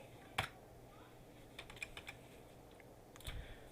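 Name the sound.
typing on a computer keyboard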